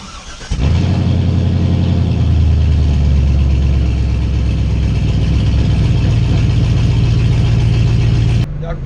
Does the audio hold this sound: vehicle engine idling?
yes